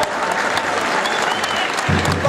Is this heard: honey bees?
no